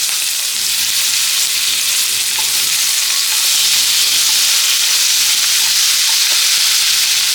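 Chopped green chilies and square-cut capsicum fry in hot oil and butter, giving a loud, steady, close-up sizzle that carries on unbroken with no voices.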